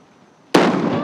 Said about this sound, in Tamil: அம்மாடி அம்மா சரியான வெடியா இருக்கு. சத்தம் அணுகுண்டுக்கு மேல போயிட்டு இருக்கு.